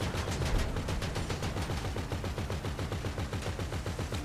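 Rapid automatic gunfire from a GTA Online shootout, loud and continuous bursts of dense rattling shots with no talk over them.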